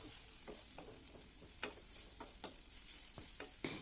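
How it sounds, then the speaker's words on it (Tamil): A carrot stir-fry cooked on medium flame sizzles softly in a pan while a spatula scrapes and knocks through it in irregular, fairly quiet strokes. "மீடியம் ஃப்ளேமில் வச்சு இனி அதை நல்லா மிக்ஸ் பண்ணி விட்டுக்கிடலாம்."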